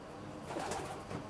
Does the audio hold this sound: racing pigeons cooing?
yes